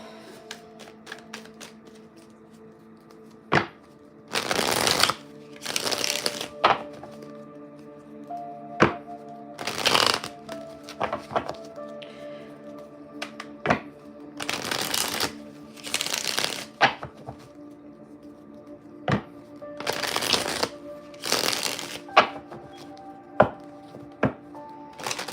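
An Oracle of the Radiant Sun oracle card deck being shuffled in several loud, riffling bursts, separated by sharp taps and thunks as the cards are squared and set down, with no voices.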